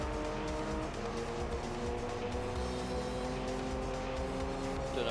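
A race car engine from the video game Gran Turismo 3, an LMP car, drones steadily at high revs with a sustained tonal whine, with faint tire noise and no talk.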